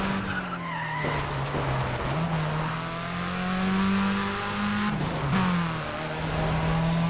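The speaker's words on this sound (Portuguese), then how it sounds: "Barulho do tubo enchendo também é muito bacana" A turbocharged race car in Need for Speed ProStreet holds a steady engine drone with a faint, thin turbo whistle rising above it, interrupted twice by brief gear-change dips, and tire skids mixed in.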